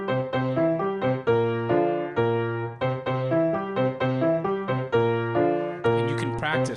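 Piano playing a 3-2 salsa montuno pattern without the tie, a steady syncopated chordal figure of repeated stacked notes, clear and close, ending with a brief brighter noisy burst.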